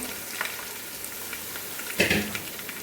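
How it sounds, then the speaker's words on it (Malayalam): Sliced onion and green chilli sizzle and fry in a hot pan as a chicken stew begins, with a steady crackle and a brief louder burst of stirring near the end. "ഇങ്ങനെ ഇളക്കണം അത് വെറും കളറൊന്നും ആവണ്ട ഇച്ചിരി വഴറ്റിച്ചിട്ട് വരുമ്പോൾ"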